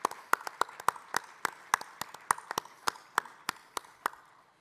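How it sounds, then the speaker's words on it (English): A conference audience claps in a sparse, uneven round of applause, with distinct individual hand claps fairly close and moderately loud, thinning out toward the end. "let me ask you to join in a round of applause for Daniela"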